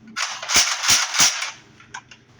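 A toy Nerf gun fires, three loud sharp pops in quick succession close by, followed by a couple of quieter mechanical clicks of pumping.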